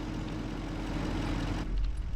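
A truck engine in Farming Simulator 25 drones as a loud, steady low rumble with a brief throaty swell near the end, and no voices.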